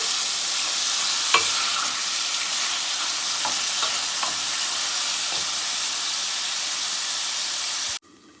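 Eggplant, potatoes and shrimp frying Guyanese style in a pan, a loud, steady close sizzle and hiss with a few light clicks of stirring, cutting off abruptly near the end.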